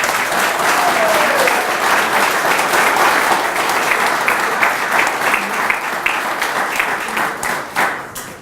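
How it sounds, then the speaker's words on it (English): An audience at the Fayette County Achievement in Arts presentation gives honorees a full round of applause, loud sustained clapping that thins out toward the end. "So let's have a round of applause for all of our honorees today."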